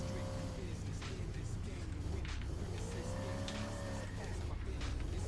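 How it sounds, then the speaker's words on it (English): Car drifting in the racing video game Spinebuster, a steady engine drone with rising and falling tire-squeal tones sliding across several seconds, continuous and fairly loud, with talk over it. "let's try drifting"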